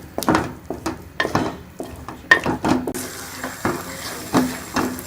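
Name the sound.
stirring and roasting rabri halwa in ghee in a pan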